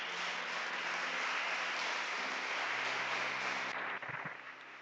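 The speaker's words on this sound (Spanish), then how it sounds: "Bríndele un fuerte aplauso al Señor." Dense, continuous applause from a church congregation during a Sunday service, steady and hissing throughout before thinning slightly at the end, with a faint low hum beneath.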